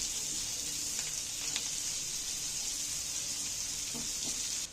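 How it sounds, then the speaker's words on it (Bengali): Chopped onions frying in a pan give a steady, close sizzle with a few faint stirring clicks, heard alone without voices. "পেঁয়াজগুলো আমি একটু নাড়াচাড়া করে একটু ভেজে নেব।"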